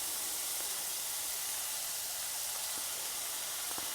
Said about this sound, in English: Just tip your onion and garlic in.